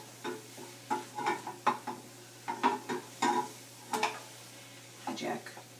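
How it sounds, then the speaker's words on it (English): Eggs cooking in a pan and being stirred with a utensil, giving a rhythmic series of soft scrapes and taps over a faint background hum, fairly close and quiet. "Cook it all together. You'll know the egg is cooked when it turns white or light yellow. Stir it around in there."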